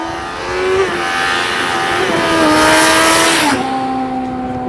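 A Suzuki GSX 750F engine revs hard and steadily, its pitch climbing and dropping through several gear-like steps, loud and close with no talk.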